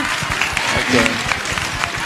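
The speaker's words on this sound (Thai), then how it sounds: "เอาปรบมือ ชอบปรบมือค่ะ" Audience clapping at a Thai film press screening, a busy patter of hands running steadily throughout with voices mixed in and a brief tonal sound near the middle.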